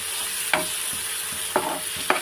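A spoon stirs a tomato-based curry in a pan, giving three scraping strokes over a steady frying sizzle, with no voices.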